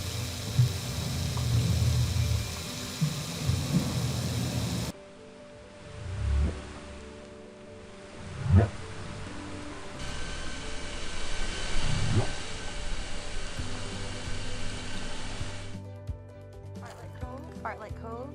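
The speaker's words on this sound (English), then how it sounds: "that's the sound of a male harbor seal roaring because it's the mating season" A male harbor seal roars underwater in Glacier Bay, Alaska, picked up by a hydrophone during mating season: low, rumbling moans rise and fade several times over steady background noise.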